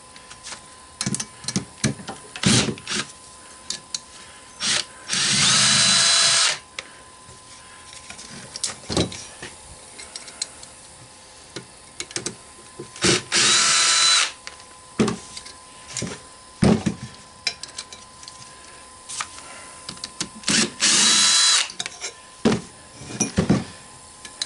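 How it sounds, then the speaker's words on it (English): A cordless drill whirs in three short bursts of a few seconds each while scrapping a shop fan, amid clanks, rattles and handling noises of metal parts. "I would say a must-have in scrapping is the cordless drill"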